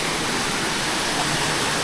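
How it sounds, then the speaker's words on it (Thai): Muak Lek Waterfall rushing in a continuous loud, dense roar of falling water, close by and steady with no other sounds. "แล้วก็บรรยากาศน้ำตกช่วงนี้"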